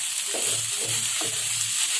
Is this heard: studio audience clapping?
no